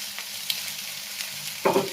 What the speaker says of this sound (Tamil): லைட்டாக போய் இந்த ஆயிலில் பரட்டி விட்டிங்கன்னா அந்த கத்திரிக்காயோட கலர் வந்து சேஞ்ச் ஆக ஆரம்பிச்சிடும்